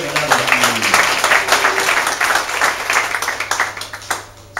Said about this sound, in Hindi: ताली बजाना चाहिए यीशु के लिए